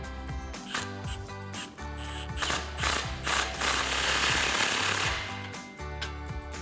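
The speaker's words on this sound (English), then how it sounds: "then we'll tighten it down with our 15mm socket" A ratchet with a 15mm socket tightens a 3-inch muffler clamp on a RAM 1500 exhaust extension pipe during a muffler delete, giving a steady run of rapid, close metallic clicking with a brief pause near the end.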